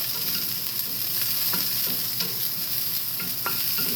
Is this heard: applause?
no